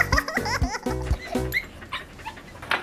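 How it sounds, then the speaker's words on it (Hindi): Cartoon dog in a Hindi comedy animation barking and whimpering in quick yelps and whines, with close bright bursts in the first half and busier cartoon sound effects later. "ओए ये मजदूर का कुत्ता है"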